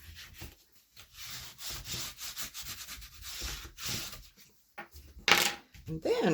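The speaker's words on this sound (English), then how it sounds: "I'm going to burnish all that score tape down nicely." Score tape on a vintage memory keeper album is burnished down with a tool, giving repeated close, dry rubbing and scraping strokes in short bursts, with a few brief pauses.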